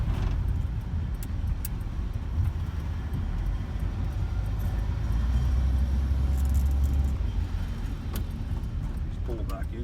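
A 1956 Pontiac Pathfinder 2-door hardtop rolls along after heavy rain, its engine droning low and steady with road rumble and faint rattles throughout.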